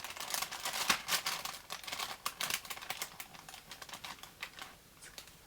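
Advent calendar box for needle felting being opened by peeling its sticker seal: close crinkling, tearing and ticking paper sounds in quick irregular bursts, loudest early and tapering off, with no talk.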